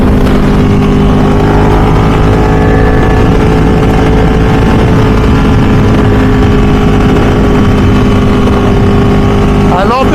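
A Ducati 1199 Superleggera motorcycle engine holds a steady, loud mechanical drone with a deep rumbling hum that barely changes across the whole stretch.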